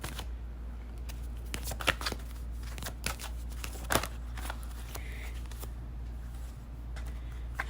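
Tarot cards shuffled by hand, repeated crisp riffling bursts and soft flicks over a low steady hum, close up with no talking.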